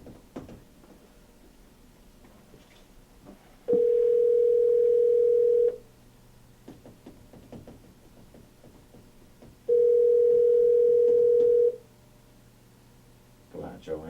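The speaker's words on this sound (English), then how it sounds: "Come on, Joe, answer the phone." A steady telephone dial tone sounds twice, each lasting about two seconds, loud and clean between stretches of quieter rustling and clicks; a brief burst of higher tones at the end suggests dialing.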